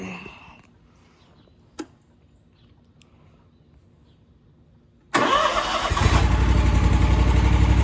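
A Ferris IS 2100z zero turn mower engine cranks briefly after a quiet pause, then catches and roars up to a loud, steady run close by.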